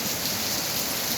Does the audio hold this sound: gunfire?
no